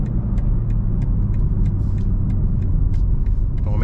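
A BMW M3 G80 taking a corner in sport mode, its engine a steady close rumble under a constant road roar, with faint clicks and ticks along the way and no talking.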